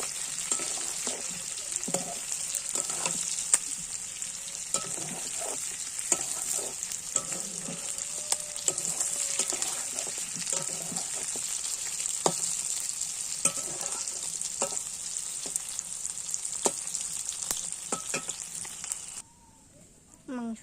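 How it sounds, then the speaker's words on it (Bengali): Mutton stir-fried in a wok crackles in a continuous close sizzle, punctuated by frequent scraping and stirring clicks, before quieting at the very end. "মাংসটাকে ভালো করে কষাই করে নিয়েছি"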